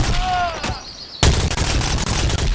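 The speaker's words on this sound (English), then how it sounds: "it does do quite a bit of damage when you shoot in the head like this" Rapid SMG gunfire in the virtual reality game Bonelab comes in loud, close bursts, a short volley, a pause, then sustained automatic fire, with a voice talking faintly underneath.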